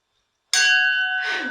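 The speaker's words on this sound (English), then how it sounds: "It's like 2 bells in a Tibetan monastery." A single bell struck once after silence, a sudden bright clang that settles into a sustained ringing tone, loud and close, with the ring swelling slightly again as it fades.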